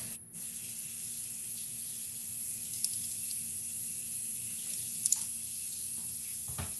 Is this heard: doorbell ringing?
no